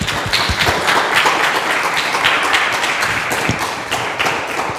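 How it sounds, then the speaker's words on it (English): Audience applause after a talk at a church event on gender identity, a dense steady wash of many hands clapping that holds for the full stretch, fairly loud and close, with no talk over it. "Let's give her a round of applause."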